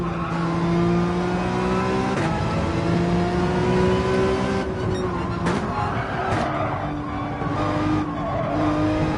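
Racing car in an F1 video game sliding through a corner, engine droning with shifting pitch and tires squealing and skidding, loud and continuous, with a voice talking partway through.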